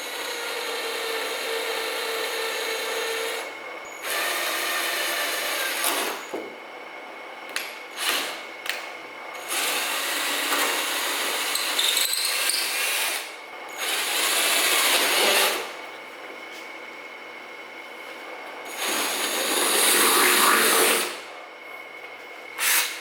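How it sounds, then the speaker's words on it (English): A power drill bores into a flat steel car hood in several long, loud whining bursts separated by short pauses, close up and without talk. "So I'm just going to be drilling straight into the flat surface."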